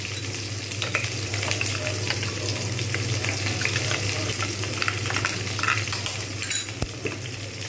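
A paste of cashew, green chili and raw onion sautéed for egg korma, giving a loud, dense, continuous frying hiss with faint spoon scrapes and clinks scattered through it and no voices.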